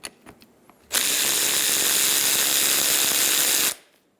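A 14mm socket on a ratchet loosens the rear brake caliper bolts on a 2007-2011 Toyota Camry. A few faint clicks come first, then a loud, continuous buzzing run of about three seconds that stops abruptly.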